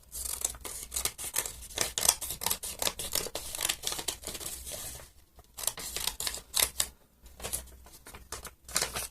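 Scissors snip through paper to cut out glove pieces in a series of crisp, close cuts with short pauses between bursts, and no talking.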